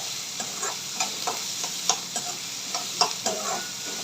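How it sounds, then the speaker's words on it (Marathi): Three finely chopped onions sautéing in oil in a pan, a soft steady sizzle broken by repeated scraping stirs at an uneven rhythm, close and moderately quiet with no talk. "आणि गोल्डन ब्राऊन कलर येईपर्यंत परतून घ्यायचे तेलात"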